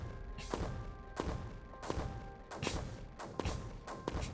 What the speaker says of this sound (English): I guess maybe if I just keep dropping mortars, maybe we'll get through the creeper.